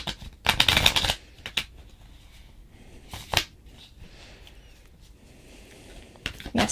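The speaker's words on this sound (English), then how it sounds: "we're going to go ahead and pull some cards to see if it's going to be a yes or no" Tarot cards shuffled in a few short bursts, a loud riffle near the start followed by quieter snaps and another flurry near the end, close and alone with no talking.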